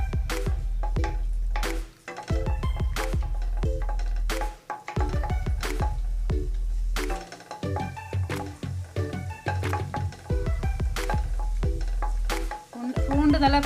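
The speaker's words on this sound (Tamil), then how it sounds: "பூண்டு நல்லா ஃப்ரை பண்ணிக்கலாங்க." Finely chopped garlic cloves frying in about two spoons of hot oil in a pan: steady crackling sizzle broken by repeated scraping stirs with a spoon, close and loud, with brief pauses between strokes.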